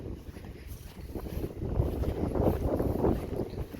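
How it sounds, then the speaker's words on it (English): Steady wind rushing and buffeting across the whole stretch, rising and falling in gusts with low rumbling, no voices. "It's still a little windy."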